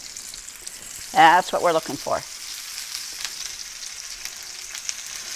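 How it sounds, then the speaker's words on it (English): A cauliflower steak charring in hot oil gives a steady, hissing sizzle throughout, heard close, while someone briefly talks over it near the start. "You hear that sizzle?"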